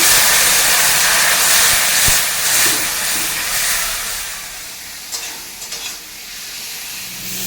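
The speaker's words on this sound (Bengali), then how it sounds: "মশলা ধোয়া জলটা এখানে দিয়ে দিচ্ছি।" Water used to rinse spices poured into masala frying in a pan for a duck egg curry, a loud hissing sizzle that slowly settles into a softer bubbling fry.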